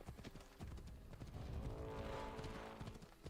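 Horse hooves clip-clopping steadily at a brisk pace in the video game Assassin's Creed Odyssey, close and fairly loud with some game ambience behind.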